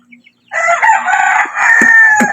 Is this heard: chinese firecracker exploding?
no